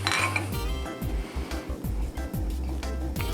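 A glass bottle clinks and knocks as a little rum goes in to rinse it, several sharp close taps and rattles of glass in a kitchen, with no talk.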